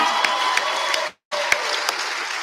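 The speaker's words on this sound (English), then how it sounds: "Can we get one more round of applause for our team?" Applause at a 2020 graduation ceremony, dense continuous clapping from a crowd with a few sharp individual claps standing out, broken by a brief abrupt silence before resuming.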